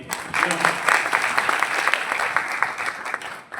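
Audience applause at an astrology and vastu talk, a dense run of clapping that swells quickly, holds steady and tapers off near the end, with some voices mixed in.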